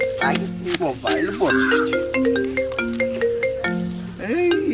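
A mobile phone ringtone plays a bright electronic melody of stepped tones, loud and close, with people talking over it.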